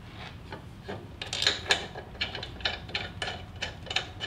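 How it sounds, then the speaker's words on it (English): Metal brake caliper sliding onto the rear wheel and rotor of a Harley touring motorcycle, heard as close scraping and clicking rubs in a loose, uneven rhythm with no talking. "So slide your brake caliper on there."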